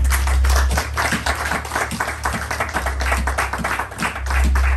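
A church congregation applauding, many hands clapping in a loud, quick, fairly rhythmic patter over a low organ or keyboard drone.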